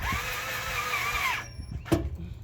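A 12-volt cordless drill whirs steadily for over a second while removing a muffler bolt on a 1996–2000 Honda Civic, then cuts off abruptly, followed by a faint clunk.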